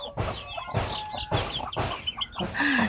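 A mixed-breed chicken clucks repeatedly in short bursts close by, ending in a higher, drawn-out squawk.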